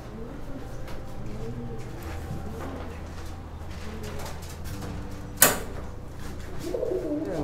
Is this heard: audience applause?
no